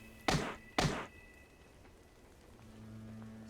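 Two heavy impact thumps land in quick succession from a body barrage attack in the Penny Arcade Adventures video game, each sharp and loud, followed by a low steady hum.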